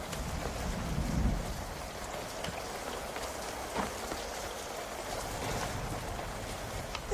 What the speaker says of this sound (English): this is Italian rain